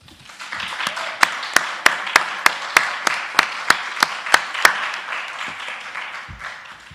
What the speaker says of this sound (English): please join me once again in thanking our panelists with a round of applause.